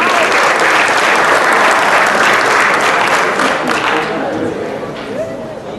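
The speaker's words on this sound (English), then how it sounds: "I'd like to give one more round of applause to this group of young men" An audience at a high school football banquet applauds loudly in a dense, sustained burst of clapping that tapers slightly toward the end.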